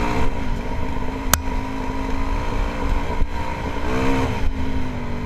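A 2007 Yamaha WR450F dirt bike engine runs steadily with a droning tone and a slight throttle swell near the end, heard under wind noise with no talking.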